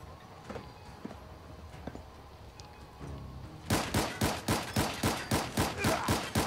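A gun in modded Fallout 4 fires a rapid string of about a dozen evenly spaced, loud shots after a quieter stretch of scattered distant pops and background game noise.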